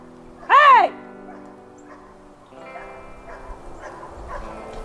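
Puppies taken from their nursing mother dog give a loud, sharp yelping whimper near the start, followed by fainter scattered yips and rustling in the background.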